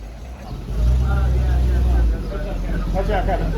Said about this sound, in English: There's a truck behind you.